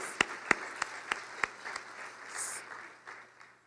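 Applause at an awards luncheon begins with a few sharp, spaced individual claps, then grows into a looser, softer patter of hands from the audience before fading.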